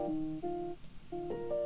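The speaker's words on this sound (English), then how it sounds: "For me, I have a chopped up piano motif that sounds like this." A chopped-up piano motif for a song intro: short sustained chord stabs cut into separate segments with brief gaps between them, played alone at a moderate level with no talking.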